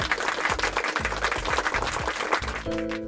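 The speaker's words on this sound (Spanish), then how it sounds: "recibámoslo con un fuerte aplauso" Audience applause greeting a guest at the start of a short science lesson, a sustained loud wash of clapping that fills the whole moment, with a steady tone entering near the end.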